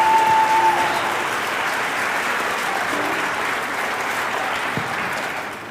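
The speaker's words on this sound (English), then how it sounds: "Big round of applause." Dense, steady applause fills a hall at a regional high school spring concert, a full audience clapping loudly and evenly throughout with no break.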